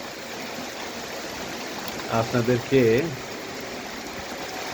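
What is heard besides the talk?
rain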